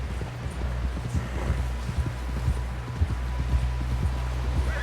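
Horse hooves clatter in a steady galloping rhythm in the Red Dead Redemption 2 video game, close and continuous under a low rumbling ambience, with no talk over them.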